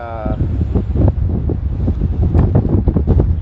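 Gusty wind buffets the microphone with a constant low roar and rumble, with a voice faintly mixed in near the start.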